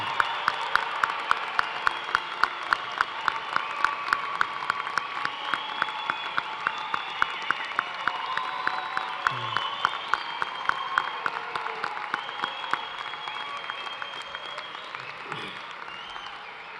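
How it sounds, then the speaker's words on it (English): Sustained applause for graduates at a University of Toledo College of Engineering fall commencement ceremony, a large crowd clapping steadily and densely for over fifteen seconds, with faint voices underneath. "let's celebrate with a final round of deafening applause for all of our"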